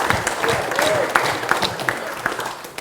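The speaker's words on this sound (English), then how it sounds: "Let's just give him a round of applause." A wedding reception crowd claps for the MC, steady close applause of many hands with a few voices and cheers mixed in throughout.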